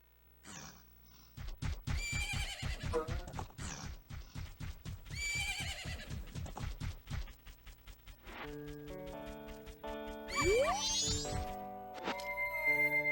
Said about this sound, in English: Look! It's your horse.